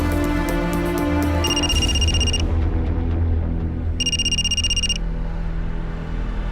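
A telephone rings indoors in two electronic bursts, each about a second long and separated by a pause, over a steady background hum.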